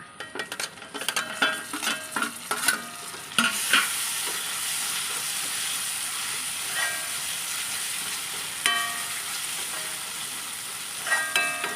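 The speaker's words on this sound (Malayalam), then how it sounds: "ഇനി തക്കാളി ചേർക്കാം" Tomatoes frying in a pan over ginger and garlic for a Kerala beef curry, giving a steady bright sizzle, with a burst of spoon-scraping stirring clatter at the start and a few more stirs later.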